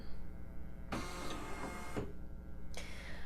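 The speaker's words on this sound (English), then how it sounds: "I want to baste before I embroider, and the hoop is going to move around a little bit." Husqvarna embroidery machine shifting its hoop into position for basting, heard as a steady close mechanical whir with two or three sharper motor surges and clicks as the hoop moves, no voices.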